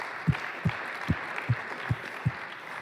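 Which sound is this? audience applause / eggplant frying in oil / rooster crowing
audience applause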